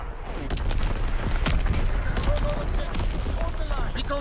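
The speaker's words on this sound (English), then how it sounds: "Artillery. Get to cover." In the Ardennes Forest in Call of Duty WW2, an artillery barrage and gunfire rumble with a dense stream of close booms and cracks, while voices talk over the din.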